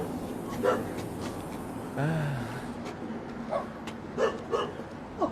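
A dog at a rural home gives a few short barks and yips spaced through the moment, one drawn-out whine-like bark in the middle, with people talking nearby.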